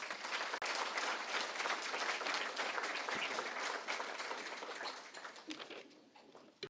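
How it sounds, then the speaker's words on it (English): Sustained audience applause for award recipient Bob Blaylock at the Pat Glass Leadership Awards, a dense crowd clapping steadily for several seconds before thinning and tapering off near the end. "Please give him another round of applause."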